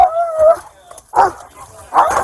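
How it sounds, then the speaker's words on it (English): K9 police dog barking in short loud bursts, three barks spaced across a couple of seconds, close by with a handler's voice urging it on between them. "That's a good dog, Red!"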